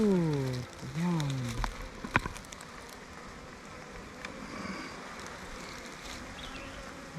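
A dense swarm of honey bees hums steadily close by around an opened, queenless hive in a bee yard. A voice is heard briefly at the start.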